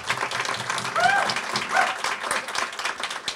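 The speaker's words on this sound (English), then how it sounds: "Let's give Ms. Johnson, the CEO of the Tulsa City County Library, a big round of applause." Audience applause at the Tulsa City-County Library's 2018 Circle of Honor ceremony, a steady moderate round of clapping from a seated crowd, heard alone without talk.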